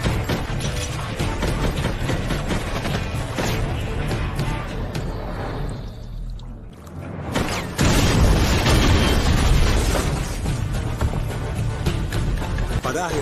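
Gunfire and explosive bursts from a film gunfight fill the scene, loud and dense, with a brief lull near the middle before heavy shooting resumes with booming impacts.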